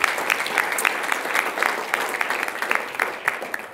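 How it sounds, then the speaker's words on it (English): A room full of people at a school district governing board meeting gives a steady round of clapping, close and sustained, with no talk over it. "Let's give him one final round of applause"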